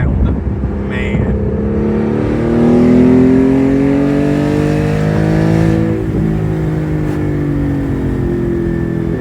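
A Porsche GT4 with a 4.5-litre engine and manual gearbox accelerates hard, its loud engine note climbing through the revs in long rising sweeps, easing briefly with a gear change and then pulling again, steady and close.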